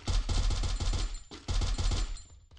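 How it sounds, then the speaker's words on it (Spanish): Gunfire in a video game: rapid, loud bursts of automatic shots in two close strings separated by a brief pause, with no talking. "Le pegó un par de tiros."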